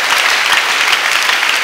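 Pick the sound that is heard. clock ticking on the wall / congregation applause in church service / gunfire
congregation applause in church service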